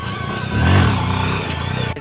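A nearby motorcycle revs up briefly for a small wheelie, its engine note swelling for a moment and then settling back to a steady idle-like drone.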